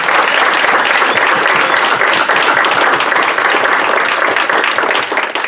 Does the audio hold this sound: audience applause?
yes